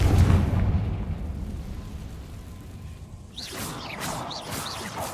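The Confringo blasting spell in Hogwarts Legacy goes off as a heavy, rumbling explosion that fades, followed by bright swooshing bursts and crackles in the last couple of seconds.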